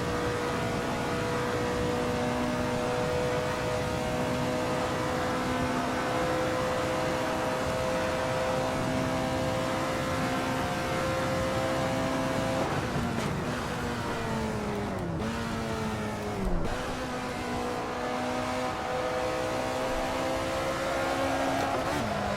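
An Alfa Romeo 33 Stradale racing car at Laguna Seca in a video game, its engine holding a loud, steady, high-pitched drone, then dropping sharply through a downshift before climbing again.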